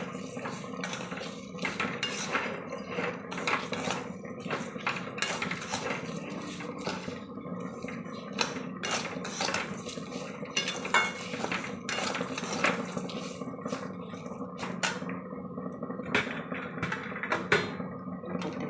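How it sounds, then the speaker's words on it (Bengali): Washed rice for pulao is stirred and fried in a pot, with constant scraping and rattling of a metal spoon against the pan, busy clinks and faint sizzle underneath, close up with no voices. "চালটা দিয়ে আমি একটু ভাজবো"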